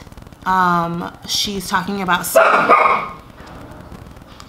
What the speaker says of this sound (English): that's my dog saying hi.